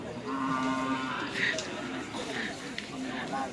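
Madura racing bulls at a karapan sapi race in Pamekasan low and moo loudly, a long drawn-out call followed by shorter ones over a busy outdoor crowd murmur with people talking nearby.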